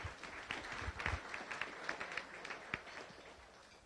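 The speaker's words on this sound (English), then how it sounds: "Please join me in a round of applause for all of our visitors and the head table." Rotary Club meeting attendees applaud their visitors and head table, a soft, scattered clapping from a room of people heard at a distance, with occasional distinct claps and low background noise.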